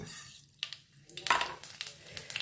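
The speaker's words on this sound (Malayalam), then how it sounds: "ഇതിലേക്ക് ആവശ്യത്തിന് കടുക് കൊടുക്കാം" Mustard seeds hit hot coconut oil in a pan, giving close crackling sizzle with quick popping bursts and spits that flare and fade over a couple of seconds.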